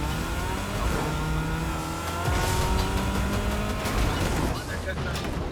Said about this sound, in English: how is his car faster than that?